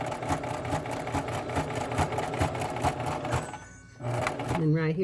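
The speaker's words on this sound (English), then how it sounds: "right here I'm going to do a little back stitch" Sewing machine stitching a cotton and lace quilt, a loud close rhythmic needle clatter that runs steadily, pauses briefly near the end, then restarts, with a voice speaking faintly around it.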